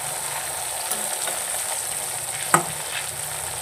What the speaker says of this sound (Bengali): এই যে কুমড়ো ভাজাটা হচ্ছে।